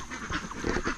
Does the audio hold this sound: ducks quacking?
yes